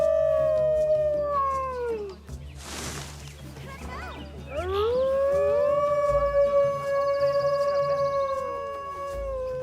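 Timberwolves in the zoo game Planet Zoo howl in long, rising and falling tones that overlap into a mournful chorus, loud and close, with a short noisy burst partway through and no talking.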